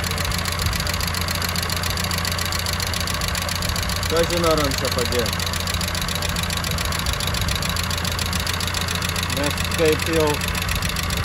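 A car engine idling with a steady knock, its rumble continuous throughout while someone talks over it.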